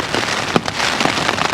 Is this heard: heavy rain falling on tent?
yes